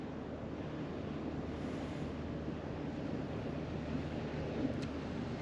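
Steady broadband wash of sea surf breaking against rocky cliffs at Porto Cristo, Mallorca, continuous and fairly distant, with a low rumbling undertone and no voices.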